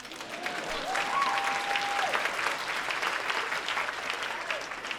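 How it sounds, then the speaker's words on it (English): An audience gives a dense, steady wash of applause at a speech on the state of women in America, with a faint tonal whistle or cheer rising briefly above the clapping. "Yes, you can applaud."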